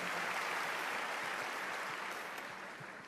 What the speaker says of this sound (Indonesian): Berikan tepuk tangan dia meriah buat Tuhan.